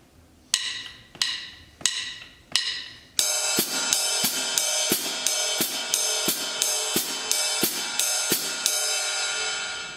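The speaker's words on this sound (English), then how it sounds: "We're going to be playing quarter notes on the ride cymbal and then the eighth notes in" Drum kit groove with steady quarter notes struck on a ride cymbal and eighth-note hi-hat foot chicks between them; a few sparse ride strikes open, then a continuous shimmering wash with regular accents, played alone and close.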